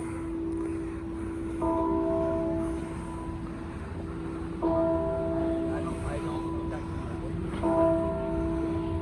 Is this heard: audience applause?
no